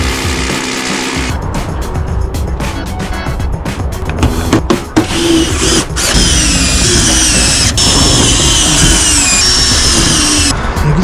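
A power screwdriver drives screws into a new balcony roof, its motor whirring and ratcheting in steady bursts up close amid ongoing construction noise outdoors.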